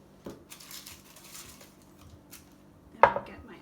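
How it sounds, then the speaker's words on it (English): A knife fine-dices onion on a cutting board in quick, light, irregular taps, then lands one sharper, louder knock near the end; close and quiet. "So again, I have my half of the onion, and I'm just going to do my fine dice."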